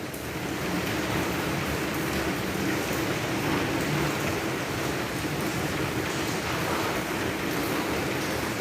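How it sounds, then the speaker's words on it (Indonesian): Steady rain pours down outdoors in a dense, even hiss that stays loud and constant throughout, with no voices over it. "Udah turun hujan ini."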